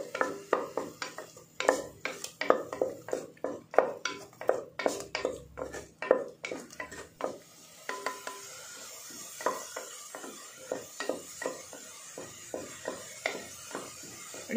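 A spoon scraping and clattering in a pan while masala spices fry for spicy Kannada-style masala pongal, busy close metallic stirring strokes that continue more softly over a faint background hiss, without speech.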